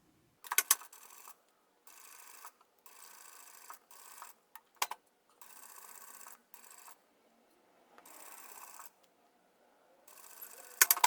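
A sewing machine stitching a patchwork organizer folder runs in short, steady whirring bursts separated by brief pauses, fairly quiet and with nobody speaking.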